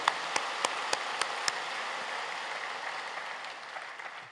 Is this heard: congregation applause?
yes